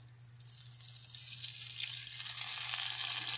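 An eggplant omelette, tortang talong, sizzles in a pan, a steady bright frying hiss that swells and holds loud and close throughout, with no talk over it.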